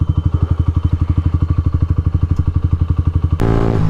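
A Honda CBR 125 motorcycle engine idles nearby with a rapid, even thumping pulse, then switches abruptly to a steadier, fuller running note for the final half second.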